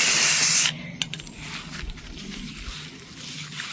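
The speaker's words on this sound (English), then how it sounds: "I'm going to spray him white" A spray can hisses a short, loud burst of white paint onto a gray garden bird figurine for a fairy garden, then cuts off, leaving faint rustling and small handling knocks.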